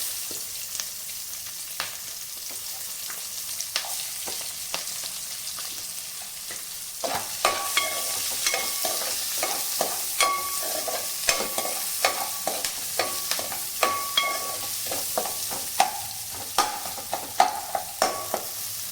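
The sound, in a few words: onion frying in a pan for gobi fried rice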